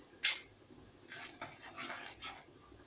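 A spoon stirs onion, tomato, garlic, salt, cumin and coriander in a pot, giving a sharp clink against the metal followed by several soft scraping, rubbing strokes, close and fairly quiet.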